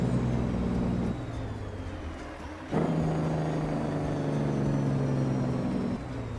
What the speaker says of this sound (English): This is the Caterpillar engine, last I checked.